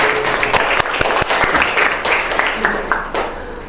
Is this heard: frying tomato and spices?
no